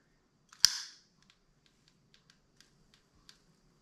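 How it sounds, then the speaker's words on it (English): A barbecue lighter gives one sharp, loud click close up as it lights a fire starter, followed by a string of faint, scattered ticks in an otherwise quiet room. "just hit it with the barbecue lighter."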